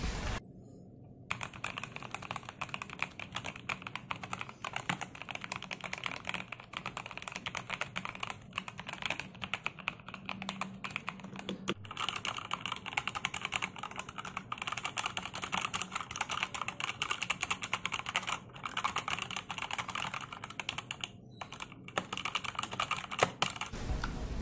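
Continuous rapid typing on a Tecware Phantom+ mechanical keyboard fitted with bronze switches, dense clacking keystrokes filling the whole stretch with no voice over it.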